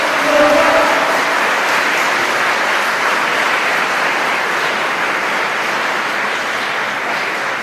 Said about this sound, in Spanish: yo les pido un fuerte aplauso para todos los oradores